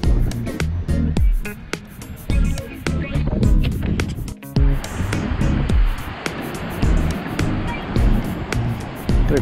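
Heavy ocean surf breaking at a point break in Cape Verde during a winter swell, a loud steady wash and rumble with gusty wind buffeting throughout.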